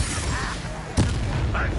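A fire spell cast in Hogwarts Legacy, a short burst at the midpoint within a busy stretch of continuous game noise, among other spell effects.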